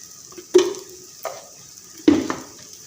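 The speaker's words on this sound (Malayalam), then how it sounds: "ഈ സമയത്ത് നമ്മൾ ഇതിലേക്ക് കുറച്ച് കോക്കനട്ട് ഓയിൽ നടുക്കൊഴിക്കുവാണ്." Coconut oil going into a pan for a red pomfret fish curry: two clear metallic clinks and taps, each followed by a soft, brief sizzle, close and fairly loud with no talking.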